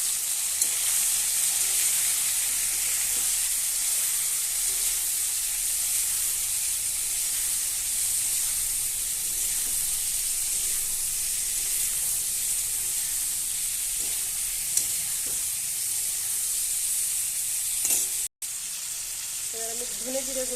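Spices, with salt and turmeric powder, fry in a pan and give a steady, loud sizzle and hiss for the whole stretch while being stirred, with a brief clink near the end.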